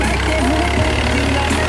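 An HMT 6522 tractor engine runs in third gear without turbo, giving a steady, loud, close diesel drone that stays constant for under two seconds with no talking.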